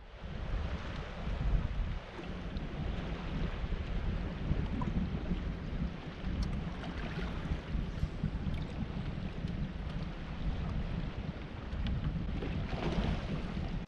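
A Bass Cat Lynx bass boat runs across a lake with a steady, continuous roar of engine and rushing water, mixed with strong wind buffeting on the microphone throughout.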